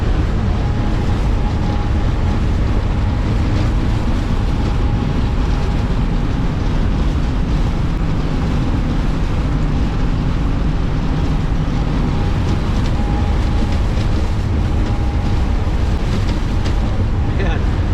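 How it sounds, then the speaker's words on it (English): Loud, constant wind roars and buffets across the microphone high up on a bridge, with a low rumble of traffic underneath and no clear pauses. "it's pretty windy up here on this bridge"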